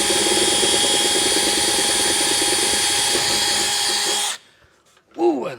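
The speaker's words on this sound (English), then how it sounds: "Ooh, I love that sharp drill bit" A sharp drill bit whines loudly and steadily through sheet metal for a rivet hole for about four seconds, then stops abruptly. A brief voice follows after a short silence.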